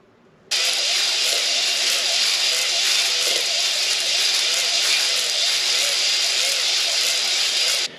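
A cylinder hone works inside a small block Chevy engine cylinder during an at-home rebuild, a loud, steady, broadband whirring grind that starts abruptly and runs evenly for about seven seconds before stopping.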